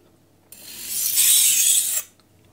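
A single stroke of a knife blade drawn across a Miyagoshi whetstone produces a close, loud, gritty rasping hiss lasting about a second and a half, then stopping abruptly.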